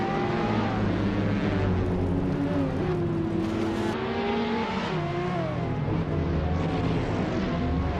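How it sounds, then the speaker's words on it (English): A 2019 BMW M8 GT race car in a racing video game drives past with a loud engine whose pitch climbs and drops through several gear changes, close and continuous. "Amy is driving a 2019 BMW M8 GT"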